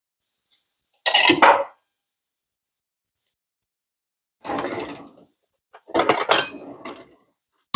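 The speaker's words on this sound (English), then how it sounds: "So I'm going to scoop Isaac out some in a little dish" Ranch potatoes being scooped into a small dish, giving three bursts of scraping and clinking utensil sounds separated by quiet gaps, fairly close and clear with no talking.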